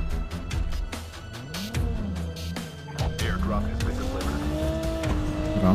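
A car being driven in the mobile shooter COD Mobile, engine revving and shifting pitch with tire squeals and skids, heard close throughout with a player talking over it.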